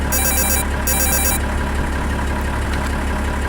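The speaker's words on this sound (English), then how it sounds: "Well, now I got a phone call." A telephone rings inside a video game, two short trilling bursts in the first second and a half, over a steady engine hum that continues to the end.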